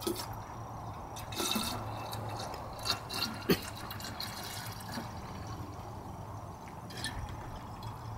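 Antifreeze pours and trickles into a 1997 Ford F-150's coolant reservoir with scattered drips and splashes, fairly quiet and close, with a faint low hum underneath.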